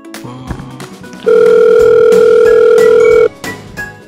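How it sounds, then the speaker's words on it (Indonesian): A phone call's ringing tone comes through loud and steady, a long continuous electronic tone lasting about two seconds, with softer tones before and after, while an outgoing call goes unanswered. "Coba aku telepon Kak Cindy."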